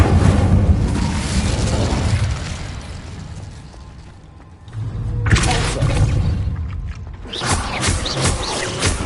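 The Incendio fire spell being cast in Hogwarts Legacy, loud roaring bursts of flame and booming impacts that swell, fade briefly, then surge again in waves, with no talking.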